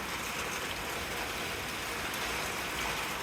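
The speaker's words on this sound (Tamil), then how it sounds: "சாம மழை பெய்யுது." Steady, dense hiss of heavy rain pouring down, constant and even throughout with no voices.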